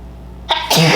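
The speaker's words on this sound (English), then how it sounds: "I might sneeze in the middle of this again." A person with allergies sneezes: a short inhaled catch followed by a loud, sharp burst of breath, close to the microphone and alone without speech.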